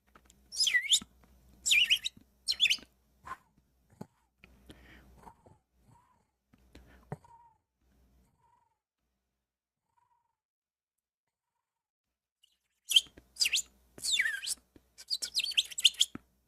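A green bird sound effect chirps in quick, bright bursts, clustered at the start and again near the end, with a long near-silent gap between.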